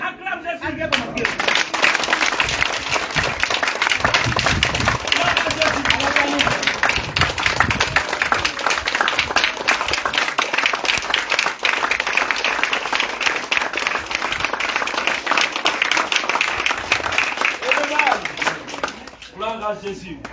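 A church congregation claps and acclaims Jesus in a long, loud burst of dense applause with cheering voices, swelling in and then thinning out toward the end.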